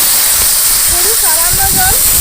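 A small splash of water hits a hot cooking pot on an outdoor riverside cookout, giving a loud, continuous sizzling hiss with a few bubbling pops; a voice speaks briefly under it.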